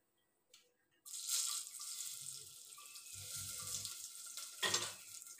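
Oil heating in a pan until it smokes, a steady close hiss and crackle of sizzling that rises sharply and carries on, with occasional louder bursts and no talk.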